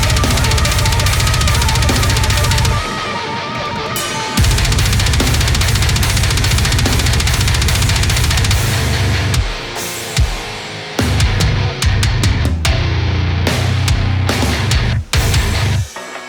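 Heavy deathcore guitar chugs, dense and loud with palm-muted low-end bursts that stop and restart in tight rhythmic clusters, hard-panned across a full metal mix.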